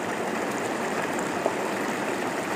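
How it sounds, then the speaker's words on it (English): River Plym on Dartmoor rushing over stones, a steady broadband outdoor water wash that stays constant and close with no distinct splashes or voices. "So this river is the Plym."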